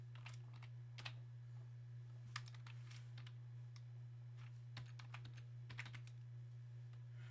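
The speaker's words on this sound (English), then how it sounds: "So I can also go ahead and type it in." Keys clack on a computer keyboard as an equation is typed in, scattered light taps and short quick runs of keystrokes, fairly faint over a steady low electrical hum.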